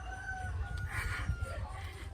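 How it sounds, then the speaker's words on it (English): A rooster crows in Bali, its call faint and somewhat distant under steady low rumbling ambient noise from an outdoor setting as rain begins. "Roosters crow all the time"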